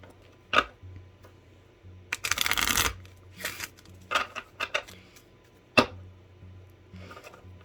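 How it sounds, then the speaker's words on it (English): A deck of playing cards riffle-shuffled up close: a dense fluttering burst of card flicks, followed by scattered taps and snaps as the cards are squared. "oh, see, that shuffled nicely"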